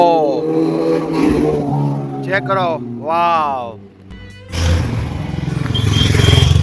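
Motorcycle engines from a group of riders rev with rising and falling whines at Bhushi Dam, Lonavala, in the rain, then a loud, rumbling roar builds up, while someone talks over them.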